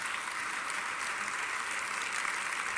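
A church congregation claps steadily together as an offering of applause, a dense continuous patter filling the room without pause.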